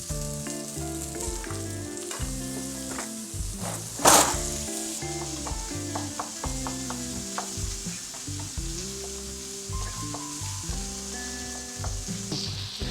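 Steak frying in butter in a pan, a loud, continuous crackling sizzle that stays close and steady, with one brief sharp clatter partway through and no talking.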